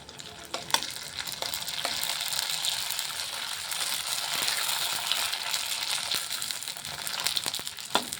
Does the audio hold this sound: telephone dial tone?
no